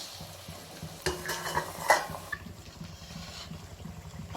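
Elladai rice crackers frying in hot oil, a steady soft sizzle with a few clinks and scrapes of a utensil against the pan, close by.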